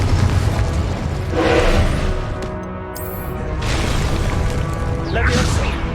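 A Confringo blasting-spell explosion in the Hogwarts Legacy video game, loud booming bursts that swell and fade, with a second blast a few seconds after the first.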